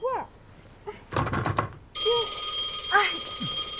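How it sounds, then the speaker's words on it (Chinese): A telephone rings in a hotel room in a Chinese drama scene; after a short burst of voices, a steady electronic ringing starts about halfway and continues while a person speaks briefly over it. "哎，电话。"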